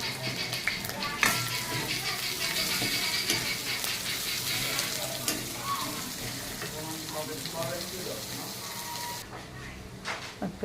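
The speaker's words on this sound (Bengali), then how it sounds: "পেঁয়াজটা ভাজা হয়ে গেছে।" Chopped onion fries in oil with bay leaves, giving a continuous crackling sizzle close by, with occasional stirring clatter against the pan and a brief drop near the end.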